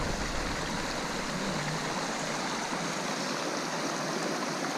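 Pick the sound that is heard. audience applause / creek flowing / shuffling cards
creek flowing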